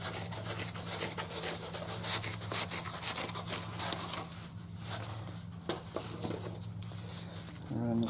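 Foam being rubbed and worked by hand while building a camera storage box, a steady close scraping, rasping texture running throughout over a low constant hum.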